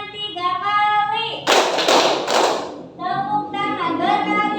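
A school class claps together in a classroom, giving a short burst of three loud, distinct claps between stretches of children chanting in unison.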